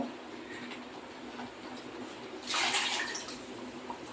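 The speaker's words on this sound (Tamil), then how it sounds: "எவ்வளோ குழம்பு வேணுமோ அந்த அளவுக்கு தண்ணி ஊற்றிக்கலாங்க" A brief splash of water poured into a pot at close range, lasting about a second after a quiet stretch of faint kitchen noise.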